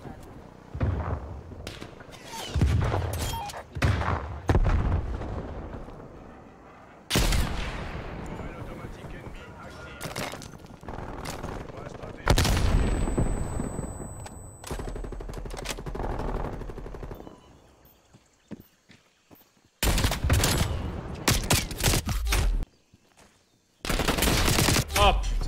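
Barrett rifle fire in the shooter game Call of Duty: Cold War sounds as sharp, loud blasts among dense bursts of rapid gunfire, with brief silent pauses between the volleys and talk in between.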